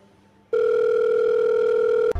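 A telephone gives off a steady, loud, continuous dial tone after a quiet start, holding for about a second and a half before cutting off abruptly with a short click at the end.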